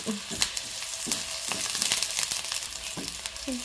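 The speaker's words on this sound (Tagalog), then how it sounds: "Saute lang siya hanggang lumabas yung aroma." Onions sauté in a pan for an okra and minced beef dish with a steady, close sizzle, broken by occasional scrapes of stirring.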